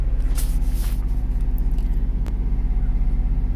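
A car idles while defrosting, a steady low engine rumble with a regular pulsing throb, close and continuous, with brief rustling and a soft click.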